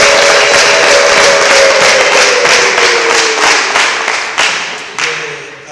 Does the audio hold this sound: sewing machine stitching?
no